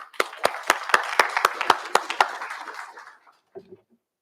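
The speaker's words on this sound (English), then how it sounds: "And so a big round of applause for you all." A small audience at a board of education strategic plan workshop claps in a brisk, fairly even burst of about ten sharp claps that fades out, with a faint low sound just after.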